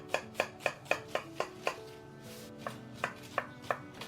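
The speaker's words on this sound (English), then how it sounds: "Look at this onion. We're going to chop it." A knife chops through an onion on a cutting board in about a dozen crisp, evenly spaced strokes, close and clear with no talking.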